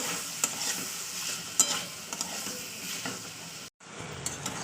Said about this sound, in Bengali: টমেটো, মটরশুঁটি আর কাঁচা লঙ্কা একসঙ্গে দিয়ে দিলাম, দিয়ে একটু নাড়াচাড়া করে নিতে হবে মশলার সঙ্গে